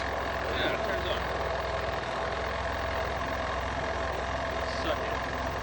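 A crashed Vespa scooter's engine runs with a steady, unbroken drone from start to finish, close and continuous, while a voice sounds faintly over it.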